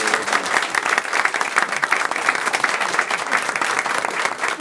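A room of people at a board meeting applauds a departing staff member, dense steady clapping that stays loud and sustained for several seconds.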